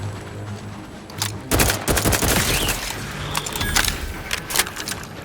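Gunfire in the video game The Outer Worlds 2, with bursts of rapid automatic shots and scattered single cracks over a low electronic hum and occasional interface tones.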